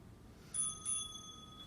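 A bright bell rings twice in quick succession during a bodyweight workout, clear and close, each ring hanging briefly before fading, with no talk over it.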